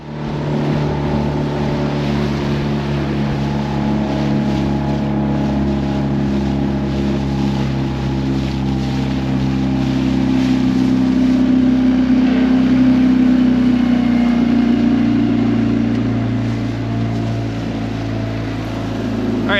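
Boat engines drone steadily during nighttime striper fishing, a loud, continuous low hum that swells slightly midway, with wind noise and no talking.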